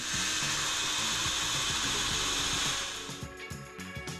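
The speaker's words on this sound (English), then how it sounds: "He then used a drill to create small dimples on the markings," A power drill whirs loudly in short bursts, making small dimples in metal on a truck camper, then stops, leaving a few clicks and light metallic taps.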